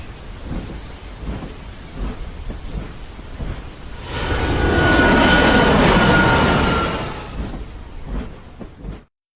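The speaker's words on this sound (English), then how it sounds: "A jet plane was coming in to land." A jet plane comes in to land in a children's story, a swelling roaring whoosh with a thin whine that lasts about three seconds over a soft rhythmic background.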